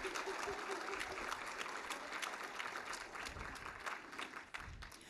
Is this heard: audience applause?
yes